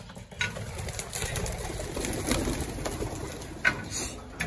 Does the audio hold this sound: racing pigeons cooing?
yes